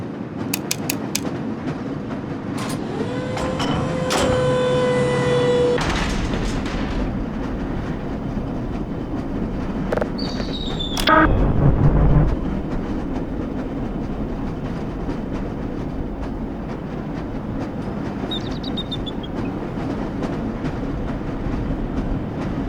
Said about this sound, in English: This lever-controlled train will transport you to a location where your training associates are waiting for you